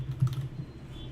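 Computer keyboard typing in a quiet room, a short burst of soft, close key taps over about a second, with no voices.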